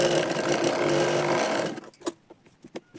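A sewing machine runs steadily for about a second and a half while stitching a katori blouse, loud and close, then stops, leaving a few scattered clicks and handling knocks of fabric.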